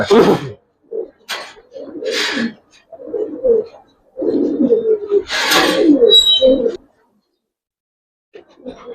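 Old-breed Giribaz pigeons coo close by in a few short, throaty bursts separated by pauses, with some rustling and a brief breathy noise among the calls.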